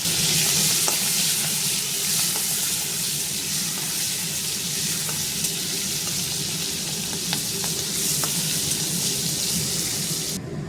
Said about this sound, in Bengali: একটু চিংড়ি মাছ ভেজে নিলাম।